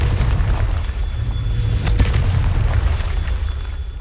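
Confringo spell blasts in Hogwarts Legacy, booming explosive bursts with a sharp crack around the middle, rolling over steady low rumbling game ambience throughout.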